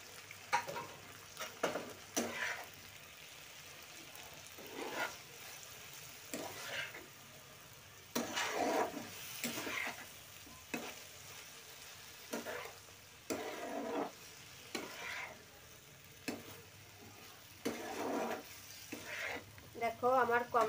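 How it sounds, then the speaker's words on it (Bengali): Ground cumin and five-spice powder fry with orange pickle in a pan, with repeated stirring scrapes and sizzling bursts spaced through a quiet background, close and moderately soft. "এখন আমি জিরের গুঁড়োটা দিয়ে দিচ্ছি আর 5 ফোড়নের গুঁড়োটাও দিয়ে দিচ্ছি।"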